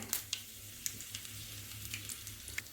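Mustard seeds and green chilli sizzle in hot oil in a pan with a steady hiss, broken by a few sharp, bright pops and crackles as the seeds burst, close up.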